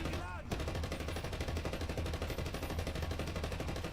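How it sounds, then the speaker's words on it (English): A tank firing shells in a video game, a dense, rapid stream of repeated firing sounds that stays steady and fairly faint throughout. "It does in fact shoot bullets, or I guess tank shells."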